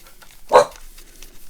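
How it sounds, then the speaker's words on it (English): A single sharp dog bark rings out nearby amid an otherwise quiet background. "He doesn't even know what he's barking at."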